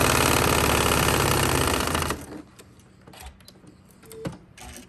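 A sewing machine stitches quilt blocks for a focal illusion quilt, running loud and steady for about two seconds before stopping, followed by faint handling clicks and taps.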